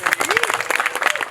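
Wedding guests clap together in a burst of applause, dense and fairly loud, with voices mixed in.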